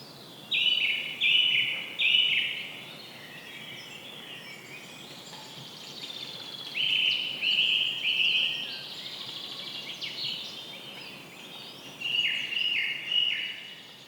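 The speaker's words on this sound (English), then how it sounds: "What did you hear now? Exactly, bird song." A bird sings clear, high warbling phrases in three separate bursts with short pauses between them, set against a quiet background.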